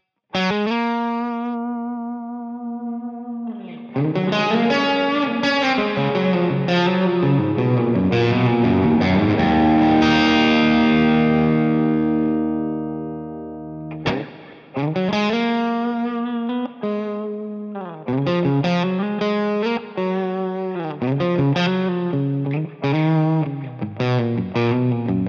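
An electric guitar runs through an AmpliTube Orange Rockverb 50 amp simulation with 4x12 and 2x12 cabinets and heavy reverb. Long, ringing distorted notes and chords swell, then after a brief break give way to choppier, shorter phrases.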